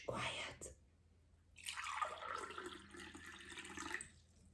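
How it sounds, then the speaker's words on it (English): Water poured from one cup into a second cup in a quiet classroom, a short splash at first, then a steady trickling stream running for a couple of seconds. "The sound of the water."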